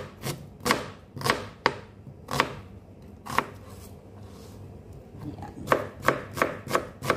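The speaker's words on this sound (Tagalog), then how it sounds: "Maghiwa tayo ng maraming onion para sa chicken recipe natin." A knife chops onions for a chicken dish in quick bursts of crisp, close taps on a board, with a pause in the middle before another fast run of cuts. A voice speaks briefly.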